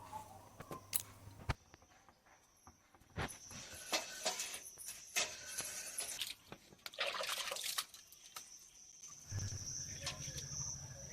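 Water trickles and splashes as a tulsi platform is washed clean in a village home, with uneven bursts and drips that come and go at close range.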